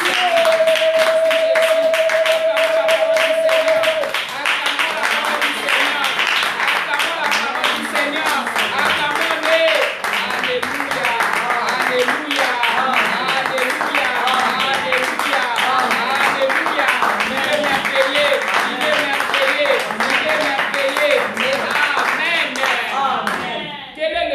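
A church congregation claps together in steady rhythmic applause, dense and sustained for a long stretch, with voices mixed into the clapping and a brief tone at the start.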